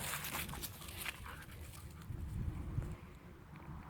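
Excited dog in a horse-grooming setting near a pasture, panting and scuffling close by over a steady outdoor background, with hoof-like clops, no speech.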